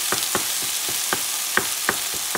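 Ground beef frying in a pan over medium-low heat, a steady close sizzle broken by regular scraping or stirring clicks about every third of a second.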